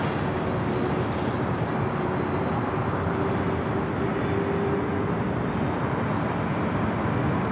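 A steady, loud roar from a British Airways Airbus A380 jet at Los Angeles International Airport, a continuous broadband engine rumble that holds constant throughout with no talk over it.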